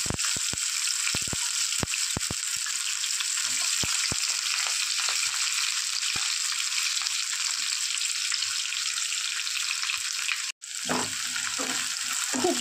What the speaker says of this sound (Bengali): এবার প্রথমে গাজর আর বিনসটা প্রথমে একটু ভেজে নেব